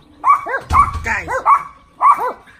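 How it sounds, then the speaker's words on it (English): A dog outdoors lets out a run of sharp, close barks and yips in quick bursts, with several pauses between calls. "there's a dog over there"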